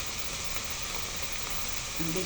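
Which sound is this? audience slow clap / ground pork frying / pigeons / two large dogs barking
ground pork frying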